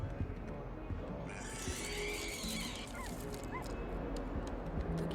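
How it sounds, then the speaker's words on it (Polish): A dog whimpers in the Hogwarts Legacy video game: soft, high whines under a dense layer of game ambience and background sound, with speech present at times. "Jakiś piesek."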